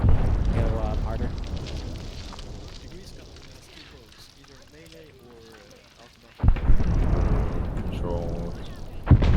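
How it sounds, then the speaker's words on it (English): Ambient artillery fire in Arma 3 booms as deep, rolling low rumbles, heavy at the start, fading to a distant growl, then a fresh loud blast near the end, with players talking over it. "So is that artillery in our favor or the enemy's? Just ambient."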